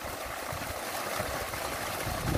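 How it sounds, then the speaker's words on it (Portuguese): Water gushes nonstop from a well beside a lagoon, a steady close rushing splash with continuous broadband turbulence and no pauses. "Isso aqui não para de jorrar água, é 24 horas."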